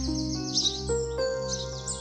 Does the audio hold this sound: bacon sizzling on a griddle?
no